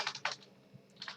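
Computer keyboard keys tapped while entering code in a web browser's console, a few quick close clusters of clicks with short pauses between them, no talking.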